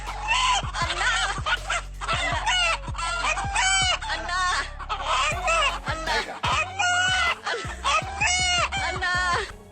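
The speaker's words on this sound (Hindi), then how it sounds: "जरा आप भी देखें इस मुर्गे की वीडियो, जिसमें ये अपने मालिक को अन्ना अन्ना कहकर पुकार रहा है" A rooster calls repeatedly at close range, loud, drawn-out cries mixed with clucking, one after another with brief pauses.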